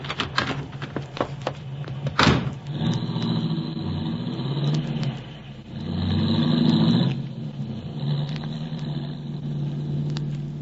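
A car pulls up beside a pedestrian at a street corner, its mid-pitched engine idling and briefly revving up, heard close and steady for several seconds without talk.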